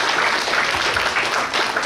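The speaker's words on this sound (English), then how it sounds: "A huge round of applause to each and every one of you." A graduation-day audience applauds in a big hall, a dense, steady wash of many hands clapping at once. It stays loud and even for the whole stretch, with no voices rising above it.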